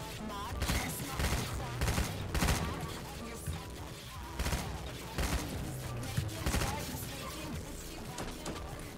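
Gunfire in the Roblox game Da Hood, repeated sharp shots and bursts spaced across a busy, steady background, moderately loud with a few heavier impacts and someone talking throughout.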